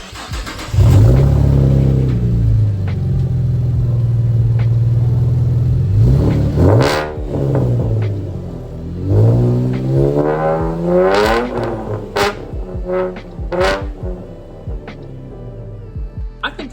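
A car with a newly fitted aftermarket exhaust idles with a deep rumble, then gets blipped several times in sharp rising revs that fall away, loud and close, with a little talking between the blips.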